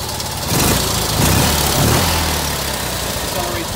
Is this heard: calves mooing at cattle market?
no